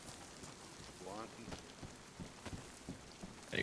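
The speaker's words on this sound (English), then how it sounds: "Ain't stopped raining all day today, is it?" Steady rain falls in the survival video game DayZ, a constant close hiss and patter with a few sharper drops and faint rumbles, and a voice briefly murmurs partway through.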